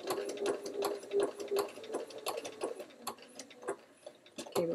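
A sewing machine stitching a quilt block runs steadily with a fast, even ticking rhythm of needle strokes, close and moderately quiet, with no talking.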